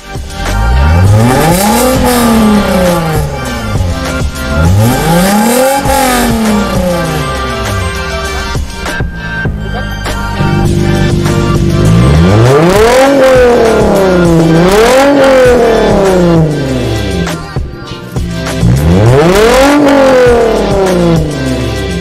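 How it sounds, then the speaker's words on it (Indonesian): A Toyota Mark X Limited Edition engine with an open exhaust valve revs hard repeatedly, rising and falling in loud roaring sweeps with a raspy exhaust note, several separate bursts close to the listener. "Teman-teman bisa dengerin suaranya open valve dan close valve-nya."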